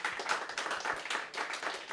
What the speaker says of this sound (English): let's give a round of applause for LightTUBe right here.